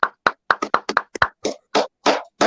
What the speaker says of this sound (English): everybody give a clap